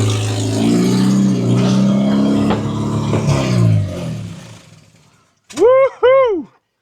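A barn-find Jeep CJ-5, parked for 45 years, rumbles along under its own power, its low engine note rising and falling as it moves, then fades before whooping voices cut in.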